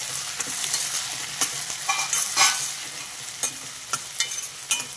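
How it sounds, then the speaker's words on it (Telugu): Onions with salt fry in a pan, giving a steady close sizzle throughout, with scattered clicks and scrapes of stirring on top and no talk. "కాసేపు మూత పెట్టి ఉల్లిపాయలు మగ్గనిద్దాం"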